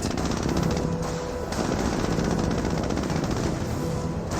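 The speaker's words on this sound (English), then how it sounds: "We're seeing a bit of fire from these Jeeps" Jeeps fire machine guns in a Company of Heroes battle, a dense, unbroken rattle of automatic gunfire mixed with engine rumble, loud and continuous throughout.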